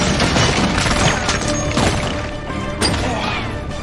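Gunfire in an action movie scene, a dense burst of sharp shots and crashing impacts with loud, cluttered echoes, no one speaking.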